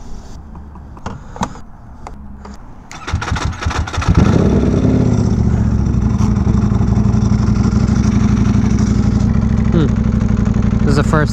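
A Ducati Panigale V4R sportbike fires up about four seconds in and settles into a loud, steady idle with a fast, even pulse, preceded by clicks and handling noises.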